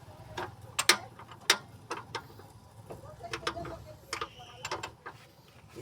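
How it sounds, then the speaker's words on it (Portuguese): Screws are fitted during a car repair job, giving scattered light metallic clicks and ratchet-like ticks in irregular bursts, fairly faint over a steady low background hum. "Agora vamos ver se a gente coloca os parafusos aqui."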